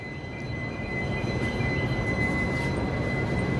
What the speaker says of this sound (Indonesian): Di bawah juga ada kereta ya